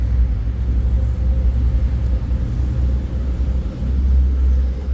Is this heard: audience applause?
no